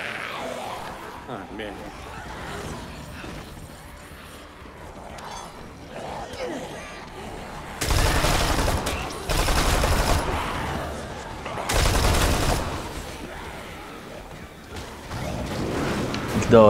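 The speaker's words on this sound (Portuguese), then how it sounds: "Da hora essa metralhadora dupla." A double machine gun in Dead Rising 3 fires in two loud, sustained bursts amid game noise, with a voice talking over and between them.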